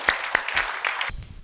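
A conference audience at the EdCast FOW 2019 event claps in a short burst, with several distinct hand claps standing out before the applause cuts off abruptly.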